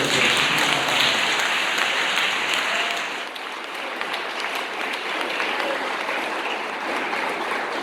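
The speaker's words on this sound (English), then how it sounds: "So can we have all the round of applause to all the directors?" Sustained applause from the audience at a school inter-house English drama competition at St. Joseph's College, Colombo, honouring the drama directors. It is loud and dense throughout and eases slightly after the first few seconds.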